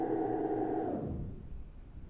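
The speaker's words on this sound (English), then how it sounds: "And now you've got frozen reverb" A sustained, smeared tonal wash hangs in place, then fades and thins out into a low, faint tail.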